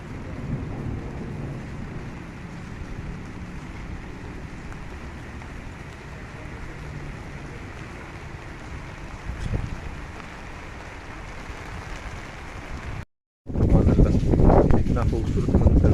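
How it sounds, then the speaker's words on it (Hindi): Heavy rain falls over a rooftop among dense clouds, a steady broadband hiss with a soft low rumble of thunder, turning into loud, close wind gusts buffeting the microphone after a brief dropout near the end. "बादल हैं बहुत ज़्यादा, बारिश हो रही है।"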